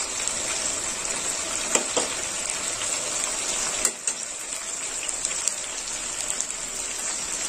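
Spices with turmeric powder frying over high heat in a pan for a tomato chicken curry, a steady crackling sizzle that holds throughout with a few louder pops and stirring scrapes, nearby and with no talk.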